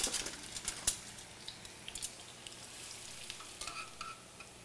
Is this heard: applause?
no